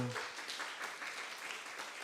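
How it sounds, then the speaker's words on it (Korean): Church congregation applauding at a Friday worship service, a steady wash of clapping that runs evenly for a couple of seconds, moderately distant, with a brief voice at the start. "박수 한번"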